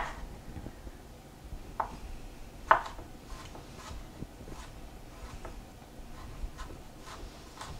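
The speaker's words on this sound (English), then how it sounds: "And then you're gonna mince it very similar to the way you would do garlic" Peeled ginger minced with a knife on a board, a steady run of light, quick taps and knocks spread across the stretch, with one sharper chop standing out, close and fairly quiet.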